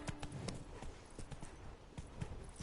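Horse hooves clip-clopping in the video game The Witcher 3, a run of moderate, somewhat uneven hoofbeats at close range with scattered game ambience and no talk.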